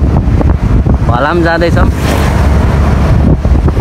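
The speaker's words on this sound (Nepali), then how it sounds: "डेन्जर हावा चलिरहेछ।" Strong wind buffets the microphone outdoors on a path toward a stream, making a loud, constant rumble under a man's brief speech.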